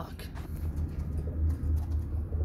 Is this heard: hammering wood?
no